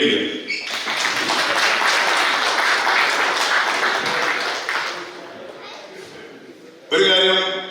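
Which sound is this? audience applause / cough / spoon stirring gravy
audience applause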